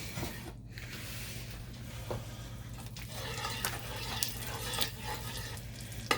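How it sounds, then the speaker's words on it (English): Quiet, steady sizzling of oil and butter in a hot pan, a soft crackly hiss with faint scattered pops and a low background hum. "oh, I hear it sizzling."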